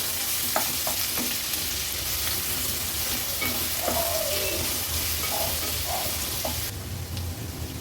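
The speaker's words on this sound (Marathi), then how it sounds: "कांदा, आलं, लसूण आणि मिरची व्यवस्थित आपण शिजवून घ्यायची आहे" Onion, ginger, garlic and chili fry in a pan with a steady, close sizzle, and a spoon stirs now and then with soft scraping clicks; nobody speaks.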